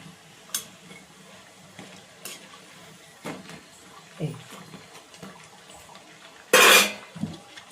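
Garelu, lentil fritters, being turned in hot oil: soft sizzling and frying under scattered clinks and scrapes of a utensil against the pan, with one loud sharp burst of noise near the end.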